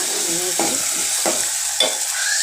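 Onions and green chillies fry in a pan, a steady sizzle broken by three stirring scrapes, close and alone.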